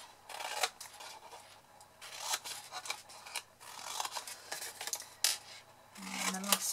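Scissors snipping card corners while making a handmade gift box, a series of short close crisp cuts and rubbing paper sounds spaced irregularly at a low level.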